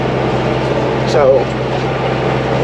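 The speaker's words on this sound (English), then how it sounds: "So we are in the tractor baling some hay." A tractor engine runs at a steady rumble in the cab while baling hay, with a constant low drone and a brief spoken word over it.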